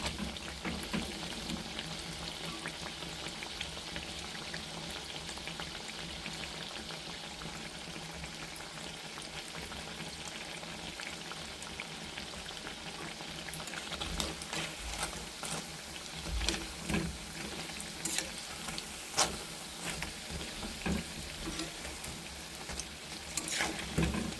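Chicken kobiraji coated in cornflour fries in hot oil with a steady, dense sizzle and bubbling that runs throughout. It is fairly quiet and no one speaks.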